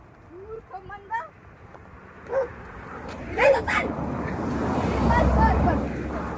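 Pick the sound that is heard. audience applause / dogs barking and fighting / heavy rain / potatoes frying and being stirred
dogs barking and fighting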